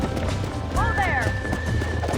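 Wild horses in the Red Dead Redemption video game give a loud, rising and falling neigh over the steady drumming of galloping hooves, close up and busy within a couple of seconds.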